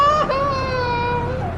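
A baby crying in an odd, eerie way inside a house, heard as a single loud, sustained wavering wail that slowly drifts in pitch, close by and with no talk over it.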